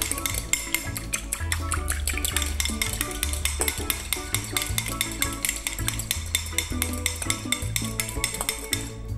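Spoon stirring an oil emulsion with salt and pepper through an orange salad in a bowl, giving steady, rhythmic clinks and scrapes under continuous background music.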